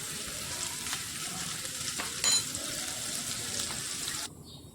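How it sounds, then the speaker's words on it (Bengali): Chopped raw garlic and cumin seeds fry in oil in a pan, a steady close sizzle with faint stirring and small clatters, ending abruptly near the close; no one speaks. "এবারে এই রসুন কুচোটা আর জিরেটা একটুখানি ফ্রাই করে নেব।"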